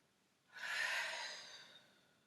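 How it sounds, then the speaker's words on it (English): One loud, close exhale during a yoga squat, a breathy whoosh that swells quickly, then fades over about a second and a half against a quiet room. "Breathing in and opening back into that. Exhale, loud exhale, squat."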